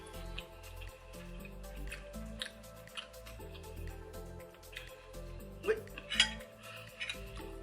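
A fork and spoon clink and scrape against a plate during a Samoan food mukbang, with soft, close utensil taps and wet squishy scooping sounds repeating irregularly, and one or two brighter clinks near the end.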